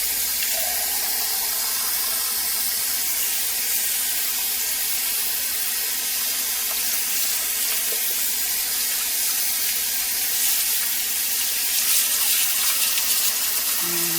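Tap water runs steadily into a kitchen sink for rinsing raw chicken before it goes into a pressure cooker. The stream makes a continuous, even hiss and splash from start to finish, with no talking.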